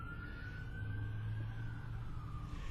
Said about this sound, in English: the joys of living on a main road, everybody. Sirens and semis all the time.